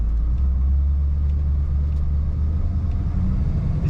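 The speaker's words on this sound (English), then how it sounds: "Let's go around the roundabout and accelerate one more time." A 1964 Buick Riviera accelerating around a roundabout, its engine a deep, steady rumble heard from inside the car, loud and continuous with a slight rising push.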